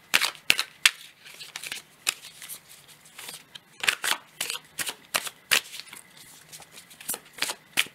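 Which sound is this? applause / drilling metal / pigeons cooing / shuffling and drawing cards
shuffling and drawing cards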